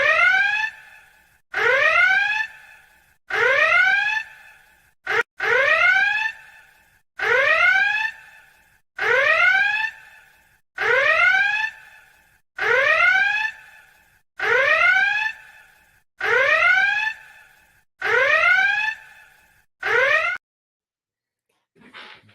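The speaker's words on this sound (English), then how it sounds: "10 minutes of alarm." An electronic alarm beeps in regular repeating bursts, each about a second long with short gaps between them, loud and steady for roughly twenty seconds before it stops.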